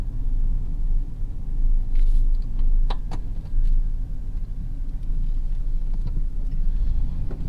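Steady low engine and road rumble from inside a moving Sierra/Silverado pickup truck, loud and continuous throughout, with a few faint clicks and rattles.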